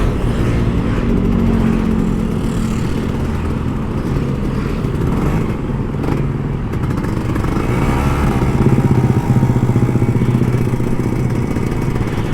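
An older Kawasaki Ninja RR 150 motorcycle rides hard along a road, its engine droning loudly and continuously throughout, with wind and road noise mixed in.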